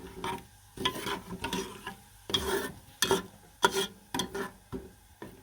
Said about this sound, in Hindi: फ्लेम को आपने हाई रखना है, थोड़ा सा इसको हमने भूनना है